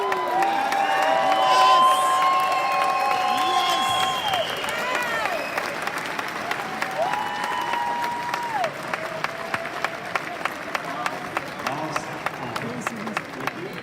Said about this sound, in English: Big applause, one more time, please.